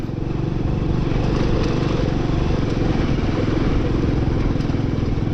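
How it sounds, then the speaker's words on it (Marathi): Hero Passion Pro motorcycle engine running steadily on an off-road mountain road beside high rocky cliffs, a loud, continuous mid-range drone with constant rattle throughout, no breaks or talk. "आणि त्यात गाडीच्या इंजिनचा आवाज."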